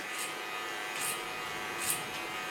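An electric hair clipper shaves the side of a head for a mullet cut, giving a steady close buzz with a few brief louder passes, and no talking.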